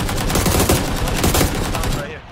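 Rapid gunfire from the battle royale game PUBG, loud and continuous bursts of shots across the whole moment, dense and close, fading slightly at the end.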